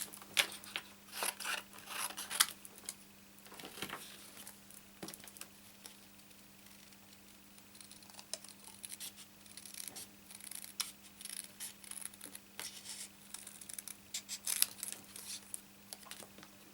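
Small paper snips cut through card stock for a handmade card, giving a run of quick close crisp snips and rustles, with pauses and light paper handling in between.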